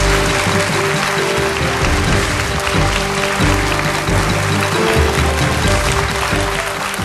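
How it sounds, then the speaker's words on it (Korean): An audience bursts into loud, sustained applause to welcome a guest historian onto a Korean studio stage, dense clapping holding steady throughout with no voices on top. "큰 박수로 맞아주시기 바랍니다."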